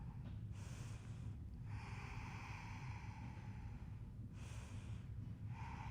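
Slow, deep breaths during a yoga practice, each long inhale and exhale rushing close to the ear in a calm, even rhythm, quiet and without talk.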